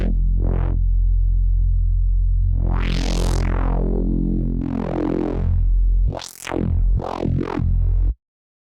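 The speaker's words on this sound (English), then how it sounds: "Let's just leave the distortion on. Let's open up the filter." Synth notes in Kilohearts Phase Plant, run through distortion with a filter opening, sound out as a string of loud, buzzy, gritty tones that grow brighter, ending in several sharp swept stabs before a sudden stop.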